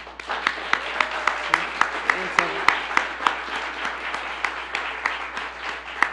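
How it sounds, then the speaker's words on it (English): Applause from an audience at a government public-safety and mental-health budget event, a steady patter of claps with sharp individual hand strikes standing out, moderately loud and close, with faint talk underneath. "Let's give a round of applause"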